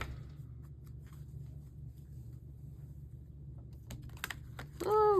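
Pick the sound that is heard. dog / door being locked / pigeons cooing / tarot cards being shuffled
tarot cards being shuffled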